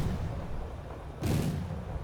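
Mortar rounds landing in Wargame Red Dragon, a sudden broadband blast about midway through over a steady low rumble of battlefield noise, loud and close.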